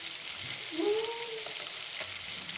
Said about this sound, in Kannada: ಉಪ್ಪು ಹಾಕಿದ್ಮೇಲೆ ಸ್ವಲ್ಪ ಮಿಕ್ಸ್ ಮಾಡ್ಕೊಳ್ಳೋಣ.